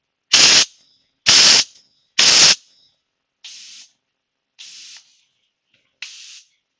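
Bench spark plug cleaner firing grit blasts: three loud, broad hissing bursts of about half a second each, followed by three softer, thinner pneumatic puffs, evenly spaced with silence between them.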